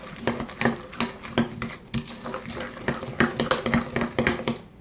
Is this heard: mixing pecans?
yes